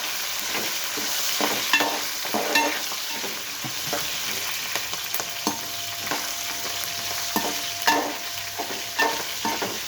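Green chilies fry in a pan of tamarind pulihora while a spoon stirs them: a constant close sizzle broken by repeated scraping strokes.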